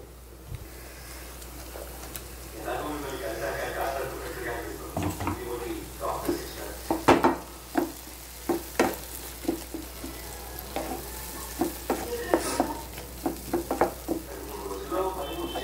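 A spoon scrapes and stirs a ground paste into onions with ginger garlic paste frying in a pan, soft sizzle underneath and rhythmic knocks against the pan growing regular toward the end; no one speaks.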